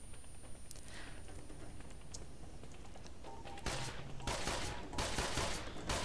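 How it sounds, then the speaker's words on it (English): Gunfire in the video game Tribes Ascend, aimed at a turret: quiet, scattered clicks give way to a few dense rapid-fire bursts, fairly faint and distant-sounding over a low steady background. "Just taking pot shots at that turret."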